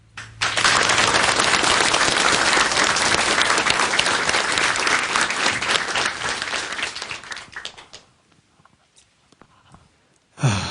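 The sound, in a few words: big applause welcoming a lecture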